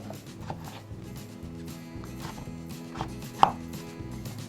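A knife cuts a cucumber diagonally on a board to take out the seeds, making a run of quiet, close taps in an uneven rhythm, with one sharper click near the end.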